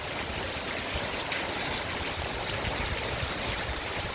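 Steady rain falls continuously in an open outdoor setting, making a dense, even hiss and patter. It stays at a constant moderate level throughout with no voices.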